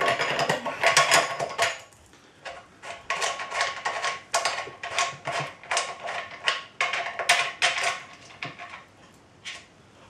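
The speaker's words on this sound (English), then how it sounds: "Now I'm going to remove the inlet valve." Metal parts on a homebrew beer keg click, clink and ratchet in quick bursts as the inlet valve is unscrewed and removed, close by, with brief pauses between the handling noises.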